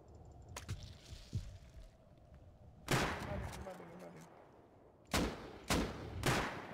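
AK rifle fire in a shooter video game, several sharp bursts of shots over a low battlefield rumble, moderately loud and spaced a second or two apart.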